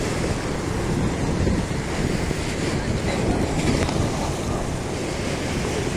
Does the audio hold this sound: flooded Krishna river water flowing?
yes